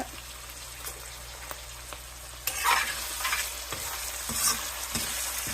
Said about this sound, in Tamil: இப்போ எல்லாத்தையும் போட்டு எண்ணெயில் நல்லா ஃப்ரை பண்ணிக்கலாம்.